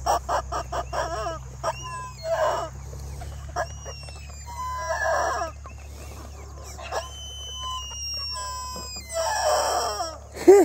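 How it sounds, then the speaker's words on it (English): Several chickens on a homestead cluck and squawk close by in uneven bursts, with higher crowing-like calls over a low steady hum and a louder squawk at the end. "Then we got the Sherman, which is the smallest chicken in the world"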